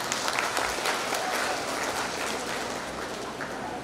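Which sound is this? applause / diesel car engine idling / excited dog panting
applause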